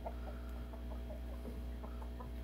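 A Belgian Liege gamefowl rooster gives a series of soft, short clucks over a constant low hum, faint and fairly close, with no talking.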